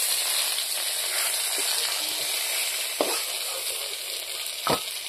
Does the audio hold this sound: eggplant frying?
yes